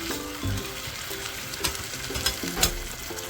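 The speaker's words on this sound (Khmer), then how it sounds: "ហើយយើងឆាខ្ទង់តែ 2-3 នាទីទៅព្រោះទឹកឲ្យពោតប្រាំងវាឆាប់ឆ្អិនដែរ" Tofu and baby corn stir-fried with Chinese spices in a pan give a steady, fairly soft sizzle, broken by a few light scrapes and clacks of a utensil stirring, with no talking.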